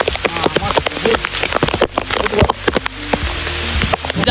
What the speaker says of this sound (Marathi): बघा शेतां पाऊस करताय तसं बघा